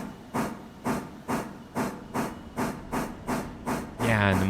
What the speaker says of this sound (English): I want you to hear the engine working